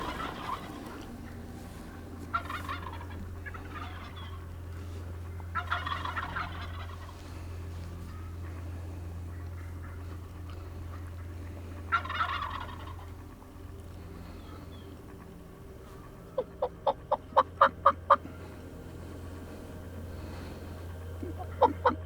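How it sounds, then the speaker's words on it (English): A wild Rio turkey gobbles several times from a distance over a steady low hum, and near the end a quick run of sharp clucks or putts sounds close by; the low drumming is not clearly audible. "You hear him drumming like crazy right there."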